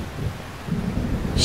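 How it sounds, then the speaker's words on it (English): A low rumble of thunder from Xenosaga Episode I rolls in with rain and wind-like noise, a dull, moderately loud roar lasting the whole moment and swelling slightly toward the end. "I hate thunder."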